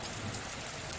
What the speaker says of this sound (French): D'apprécier le bruit de la pluie.